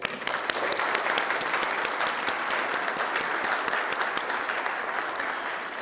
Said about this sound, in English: There's going to be a lot of applause, so, just keep it going.